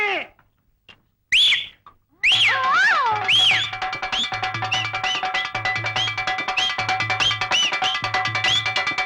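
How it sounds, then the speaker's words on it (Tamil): Repeated rising and falling whistles, clear and fairly loud, sound over a steady hum with pulsing low beats, as if music plays underneath. "ஏய் விசில நிறுத்து"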